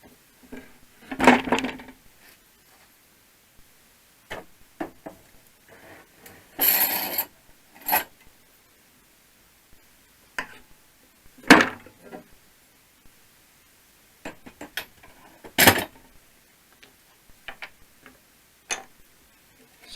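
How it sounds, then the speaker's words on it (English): Clamps being released and a wooden storage box base fitted together, with scattered sharp wooden clicks, knocks and rubbing scrapes at irregular intervals, close and fairly quiet between the hits. "Let's release the clamps."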